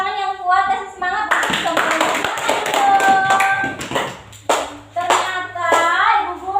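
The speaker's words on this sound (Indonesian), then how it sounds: "Tepuk tangannya jangan loyo, tepuk tangan yang kuat, kasih semangat." A classroom of primary school pupils claps for the last performing group, a loud, dense run of handclaps with shouted children's voices over it, dipping briefly and then picking up again.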